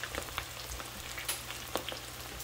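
Coconut shrimp sizzle and crackle steadily in hot frying oil, a close, continuous bubbling hiss with scattered sharper pops and spatters.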